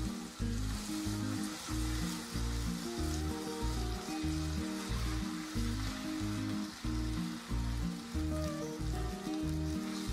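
Batter mixture sizzling in a hot pan, a steady close crackling hiss that holds throughout at an even level, with a faint low hum underneath and no talking.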